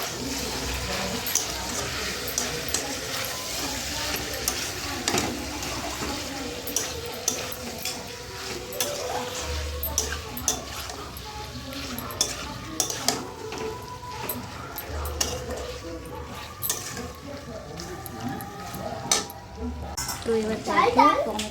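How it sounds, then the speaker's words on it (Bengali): Ground chili paste sautéing and being stirred in a pan for a Bengali home-cooked Sunday lunch, with a steady low sizzle and scraping stirs throughout and a voice talking over it. "লঙ্কা বাটা এবার অনেক সুন্দর কষাবে"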